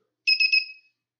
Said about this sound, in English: this buzzer sound is pretty horrible